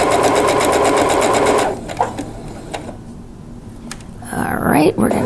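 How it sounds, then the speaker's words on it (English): Sewing machine stitching pieces of quilt fabric for a Drunkard's Path and melon block, running loud and close for under two seconds before stopping, followed by brief handling noises and a rustle. "we're gonna sew a little more, and now we're gonna stop, needle down"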